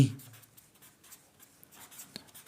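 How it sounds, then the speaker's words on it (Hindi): A pencil or compass draws an arc on paper during a geometry lesson, giving soft, close scratching strokes that come in short bursts with brief pauses and no talking. "I draw an arc of radius"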